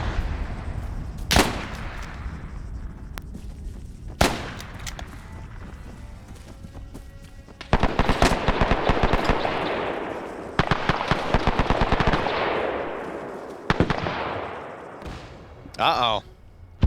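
Bursts of gunfire and loud blasts in a World War II online team battle, sharp cracks and rapid volleys breaking out in irregular clusters over sustained combat noise, with players talking throughout.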